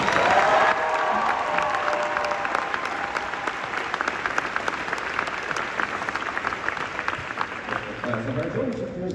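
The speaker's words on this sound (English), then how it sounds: "How about a round of applause for our drill instructors?" A crowd applauds Marine Corps drill instructors at a ceremony, sustained clapping with scattered cheers, opening under a speaking voice and then carrying on alone at a steady, full level.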